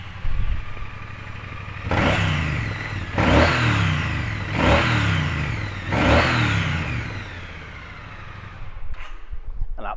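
A 2017 Triumph Bonneville T100 motorcycle engine starts and is blipped through four loud, close revs, each one rising sharply and falling back to a steady idle, with brief clatter at the end.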